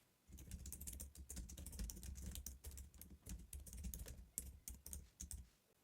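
Someone types a WhatsApp reply to a customer on a computer keyboard, producing a close, steady patter of key clicks in uneven bursts with no speech.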